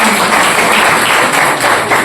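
Dense applause fills a Jain religious discourse hall as the audience claps for a child, a steady wash of many hands throughout.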